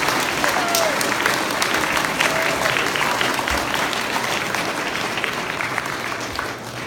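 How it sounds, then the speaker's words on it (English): Sustained applause from an audience honouring a woman named Marnie Ferris, dense and steady throughout at an even level, with faint voices mixed in beneath the clapping. "I would like to give a huge round of applause for Miss Marnie Ferris."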